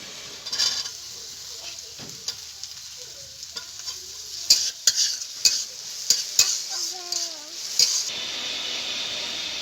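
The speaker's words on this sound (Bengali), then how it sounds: "গাজর ভাজা হয়ে গেছে, এবার ওর ভিতরে এই কুচিয়ে রাখা ছোটো করে কেটে রাখা আলু দিয়ে দেবো" Carrot and chopped potato frying in a pan are stirred, the soft sizzle punctuated by a run of sharp spoon-on-pan clacks that grow louder toward the end, with a voice speaking faintly underneath.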